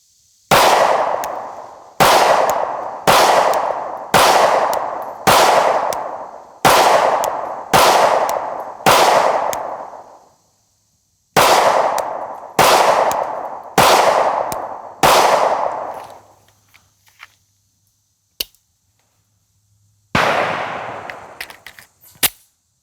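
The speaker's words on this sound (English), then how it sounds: "I'm just going to be shooting 124 grain NATO ball ammo into a target just for fun." Sig Sauer P365 XL pistol firing 124 grain NATO ball ammunition at a target, a steady string of loud, sharp shots about one per second with echoing decay, a short pause, then four more shots and a few scattered ones.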